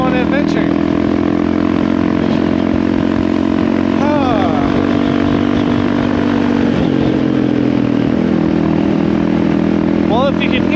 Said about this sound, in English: if you can hear anything over this god-awful loud exhaust